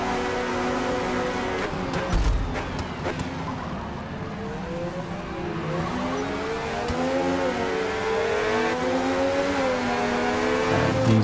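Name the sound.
1970s Formula 1 race car engine at full throttle, video game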